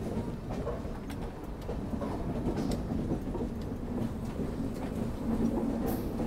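Gitanjali Express on Indian Railways rolling over a double diamond crossing near Nagpur, heard as a steady, close rumble of wheels and carriages with faint clacks over the track joints and no talk.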